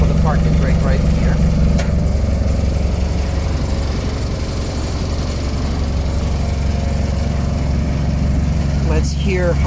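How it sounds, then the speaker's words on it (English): A cold 1989 Land Rover Defender 110 Perentie diesel engine idles roughly and steadily at close range, a low clattering rumble throughout, with a couple of brief knocks near the start and end. "Let's hear how the engine runs when it's cold"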